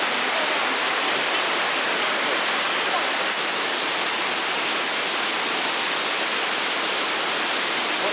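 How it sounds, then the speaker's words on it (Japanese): A waterfall on Yakushima island, a dense continuous broadband rushing roar, steady and close with no pauses. "滝の音はずっとしてたんやけど"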